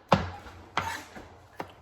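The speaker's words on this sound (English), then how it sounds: "So you just want to start chopping it" Knife chopping vegetables for a spinach and pepper saute on a board: three sharp, separate chops about 0.7 seconds apart, close and clear, with no talking.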